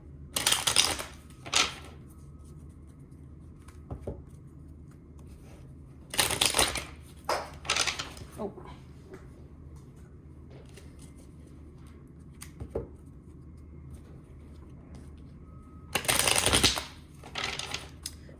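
Tarot cards being shuffled and drawn, heard as several short, crisp riffling bursts with quiet pauses between them, close by and without talk.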